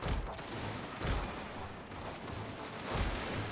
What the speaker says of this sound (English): French artillery rolling into my lines.